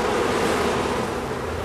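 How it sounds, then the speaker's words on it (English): Honey bees fanning their wings at a hive make a steady, close, continuous droning buzz with no breaks. "Their wing beats fan the hive to keep it cool and ventilated"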